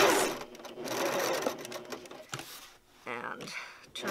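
Sewing machine stitching around a tote bag panel, a rapid close mechanical chatter that starts and stops in bursts, with someone talking over parts of it.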